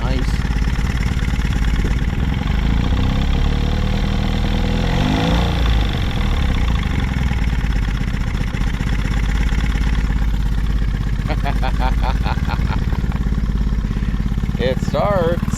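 A restored boat engine runs loud and close, throttled briefly then settling to a steady idle with a continuous rumbling drone and some clatter, as a person talks over it.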